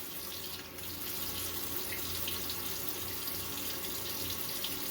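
A tap runs steadily during a wet shave, a soft, continuous splashing stream of water into a sink, fairly faint and uninterrupted throughout.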